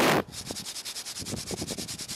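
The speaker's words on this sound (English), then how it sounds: "how long have I been sanding on this roof?" Rhythmic sanding strokes rasp back and forth across a hard roof surface, evenly paced and close, after a brief burst of louder noise at the start.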